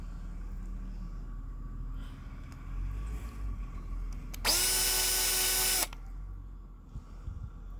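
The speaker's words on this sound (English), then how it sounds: "I can continue drilling the pilot hole" A power drill whirs loudly for about a second and a half, drilling a pilot hole in a short burst, with quiet handling noises before and after.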